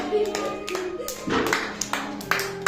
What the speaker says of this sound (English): Clapping, clap everyone.